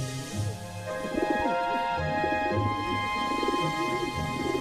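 Several doves coo softly in a rhythmic, repeated pattern in a cartoon scene at a farm, moderately close, over a sustained musical background.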